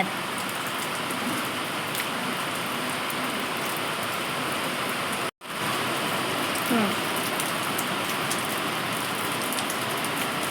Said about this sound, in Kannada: ಮಳೆ ಹೆಂಗೈತಿ ಗೊತ್ತೈತಿ ನೋಡ್ರಿ